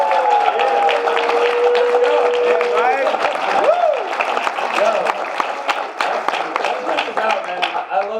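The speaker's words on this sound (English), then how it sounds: "Let's give him a round of applause." Crowd applause for a colleague during a business presentation, scattered claps building under and around talk and cheering voices, moderately loud and close.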